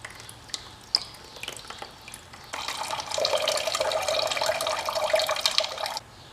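Coolant drains from a Yamaha Raptor 700 ATV into a bowl, starting with scattered drips and trickles and then settling into a steady, close pouring splash that stops abruptly.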